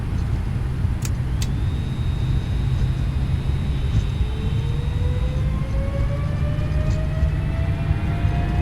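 Boeing 777 jet engines in a flight simulator game spool up for takeoff: a steady, heavy rumble with thin whining tones that climb gradually in pitch over several seconds.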